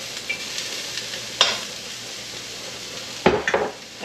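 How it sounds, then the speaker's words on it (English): Cabbage stir-frying in oil in a Chinese hand-made wok, a steady close sizzle with sharper bursts of spatula scraping and stirring at intervals. "Bottom of the pan, and then we'll throw in the cabbage"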